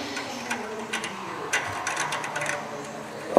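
Rapid ratchet clicks from brake caliper work on a truck during rear pad replacement, heard as close, uneven bursts of small mechanical ticks over a faint background hum.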